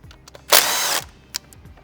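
Power tool on the valve cover bolts of a Gen II Chevy Cruze, one short loud half-second whir, with faint clicks and handling noises before and after.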